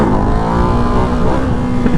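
Ducati Hypermotard 698 Mono RVE single-cylinder motorcycle accelerating hard in second gear, a loud, close, steady engine note rising continuously over two seconds.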